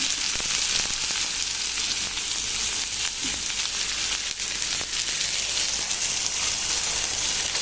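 Finely chopped onion frying in hot oil with mustard seeds, a steady, loud, hissing sizzle that continues without pause, with occasional faint stirring and no talk.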